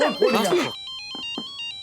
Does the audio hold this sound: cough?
no